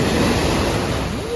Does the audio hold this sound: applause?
no